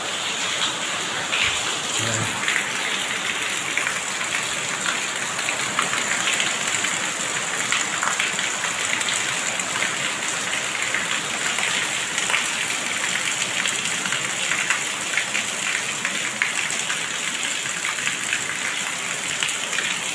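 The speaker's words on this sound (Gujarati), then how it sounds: "વરસાદ કેવો પડે છે એ પણ આપણે જોઈ શકીએ છીએ" Heavy rain pours down in a constant, dense hiss, loud and unbroken throughout, with no voices over it.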